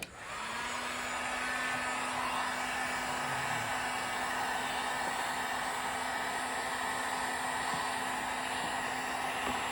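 A Harbor Freight heat gun heating PVC pipe for forming blows as a loud, steady, close whooshing roar that starts with a brief click-on and holds unbroken throughout.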